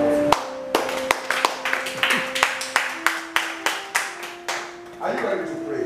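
A church congregation claps together in a steady rhythm of about a dozen sharp, evenly spaced beats, close and loud, with sustained organ-like tones and faint voices underneath before the clapping gives way to a swelling murmur.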